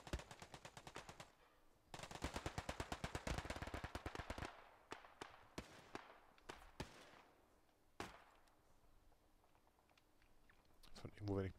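Rapid bursts of machine-gun and rifle fire from a Hell Let Loose battle in the Hürtgen Forest, loud clattering volleys followed by scattered single shots and quieter gaps, with a voice briefly heard.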